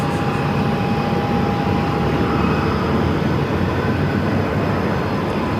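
A Southwest Boeing 737-700 arriving at Phoenix from Dallas Love Field gives a steady, loud jet roar with a faint whine, continuous and close throughout.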